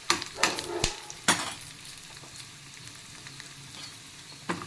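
Urad dal, coriander seeds and cumin dry roast in a pan over a low flame, with a few sharp spoon scrapes and stirring clicks over a faint dry rustle.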